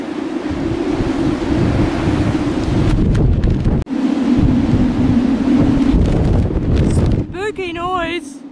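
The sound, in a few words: noise made by an antenna in the wind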